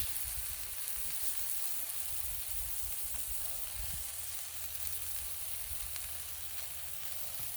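Sausage sizzles steadily on a Blackstone flat-top griddle for breakfast, a constant fine crackle with a low rumble beneath, moderately loud and unbroken, with no voices.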